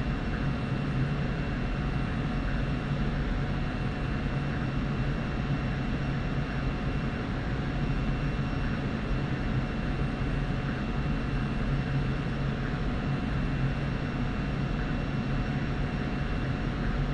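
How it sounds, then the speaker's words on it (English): F-16C Viper jet engine on landing approach in the DCS flight simulator, a steady, unbroken cockpit drone with a faint whine running throughout and no talk. "We'll increase thrust a little bit, and once on position, we should come in for a nice and clean landing here."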